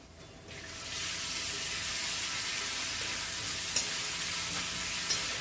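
Ginger and garlic paste, pounded in a mortar, hits onions frying in hot oil for a jackfruit biryani, setting off a loud, steady sizzle with a couple of faint clinks.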